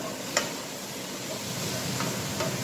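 Onion frying in a pan with bacon fat, a steady soft sizzle with a few faint clicks of stirring, continuous and close.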